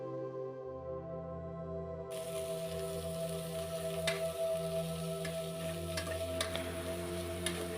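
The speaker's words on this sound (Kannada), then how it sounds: "ಇದನ್ನು ನೀಟಾಗಿ ಚೆನ್ನಾಗಿ ಫ್ರೈ ಮಾಡ್ಕೊಳ್ಬೇಕು" Masala with three kinds of leafy greens fries in a pan, giving a steady, soft sizzle with occasional crackles and stirring clicks, close and fairly quiet.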